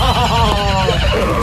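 A horse neighs loudly in a comedy radio sketch, a long quavering whinny with stacked harmonics that wavers and falls over about a second and a half, close and alone with no talk over it.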